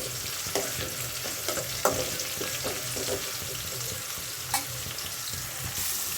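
Bitter gourd pieces frying in a pan give a steady, close sizzle, with occasional soft clicks of stirring over the hiss.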